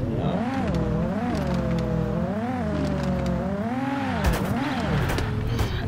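A car in drift mode revs and whines through repeated rising and falling engine pitch sweeps, with brief tire squeal, a steady, fairly close engine drone throughout.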